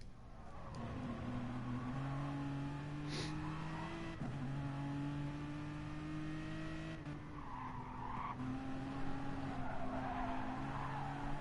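Car tires screech under full braking in Gran Turismo Sport, a sustained tonal squeal over engine drone that shifts pitch in steps, heard alone without talk.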